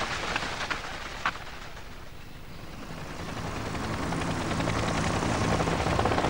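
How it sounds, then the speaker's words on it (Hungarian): A steady, rumbling whir of military helicopters in an animated cartoon builds gradually, with rotor noise blending into a dense wash that grows slightly louder toward the end. "Ezek katonai helikopterek."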